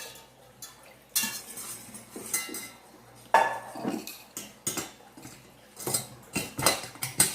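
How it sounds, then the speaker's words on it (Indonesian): Metal pots and utensils clink and scrape while the cook switches to a smaller pot for making choux pastry dough: irregular clattering knocks and stirring scrapes, close and fairly loud, with no talking. "saya ganti panci kecil saja karena ini terlalu besar"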